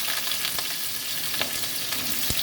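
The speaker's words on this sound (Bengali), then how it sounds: "তেলে তেজপাতা দিয়ে এবার আলুগুলো ছেড়ে দেবো। আলুগুলো লাল করে ভেজে তুলে নেব।" Potato pieces fry with a bay leaf in hot oil for a Bengali jackfruit and prawn dish, a steady dense sizzle with a few soft stirring knocks, close and continuous.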